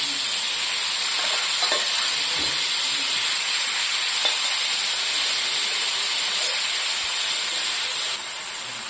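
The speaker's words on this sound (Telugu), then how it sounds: "ఇలా అంతా మొత్తం వేసేసి వేయించుకోవాలండి." Boiled cluster beans with chana dal and curry leaves frying in a pan over medium flame, a steady loud hiss and sizzle running throughout with faint occasional stirring clicks.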